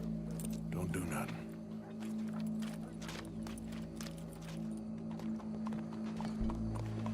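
Horse hooves clip-clop at a steady walking rhythm in the Western video game Red Dead Redemption 2, close and continuous over a droning ambient bed, with a whinny near the start.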